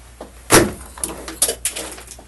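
A door opens and closes, a sharp loud thump followed by a few lighter knocks and rattles, close by and with no voices.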